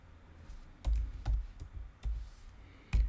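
Keys tapped on a computer keyboard while entering short words into a Google Sheets spreadsheet, a handful of separate soft clicks spaced irregularly across a quiet room, no voice present.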